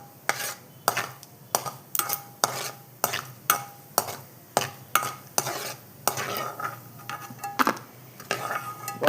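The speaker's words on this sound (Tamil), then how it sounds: "முந்திரி போட்டுக்கலாம். ஒரு 7-8 கொஞ்சம் செவக்க வறுக்கலாம், நல்லாயிருக்கும்." A handful of cashews roast in a pan over mustard seeds, with repeated sharp scraping and clinking of a spoon against the metal pan in a steady rhythm over a soft sizzle.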